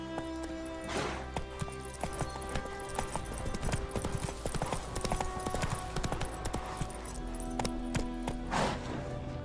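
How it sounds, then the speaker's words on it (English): Hoofbeats of Roach, a horse in The Witcher 3: Wild Hunt game, clip-clop steadily through the whole stretch over a dense musical and ambient game backdrop, with a brief whinny-like burst near the start. "Run, Roach. Slow now"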